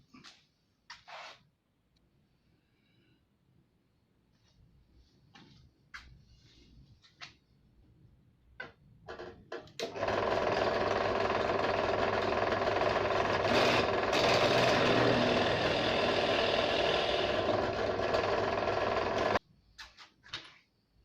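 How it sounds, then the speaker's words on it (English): A power drill drives screws into a wooden kitchen utensil rack. A few light knocks and handling sounds come first, then a loud, close, steady whirring burst lasts about nine seconds before cutting off. "I'll set up the drill again and we'll do that."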